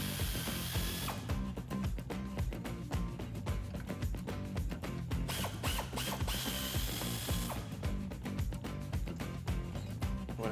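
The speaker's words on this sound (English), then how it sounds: "once you crack those bolts loose, we're just going to take them all the way out." Hand ratchet clicking rapidly while backing out ball joint bolts on a Jeep Wrangler JK, a dense, close run of metallic pawl clicks that pauses briefly at about one second and again near seven seconds, with no talking.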